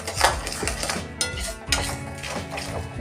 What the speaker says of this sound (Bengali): এবার এটা আমি নেড়ে নেড়ে কিছুক্ষণ পর্যন্ত এইভাবে আমি নেড়ে নেড়ে যাবো।